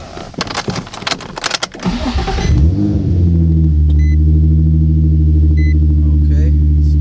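A Nissan 350Z fitted with a Manzo Y-pipe and test pipes cold-starts in a chilly warehouse: clattering handling noise and a cranking burst give way to a loud, steady, deep idle drone that fills the rest.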